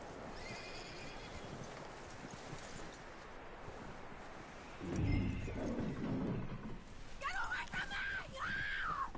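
A video game horse in Red Dead Redemption 2 snorts and gives a loud, shaky whinny, with hooves shuffling nearby and a low murmur of voices in the background.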